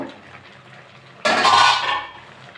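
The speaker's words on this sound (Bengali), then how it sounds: "আলু ডাটাগুলো সব সিদ্ধ হয়ে গেছে এবার ঢেলে নেব" Boiled potatoes and gourd stems are poured out of a cooking pot, giving a sudden loud watery gush and splash with metallic clatter that lasts under a second before trailing off.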